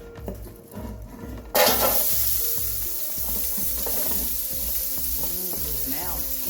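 Celery, onions and herbs are dropped into a hot pot for a roasted red pepper, corn and crab chowder, then sizzle loudly and steadily. Rhythmic scraping of the stirring runs beneath, and no one speaks.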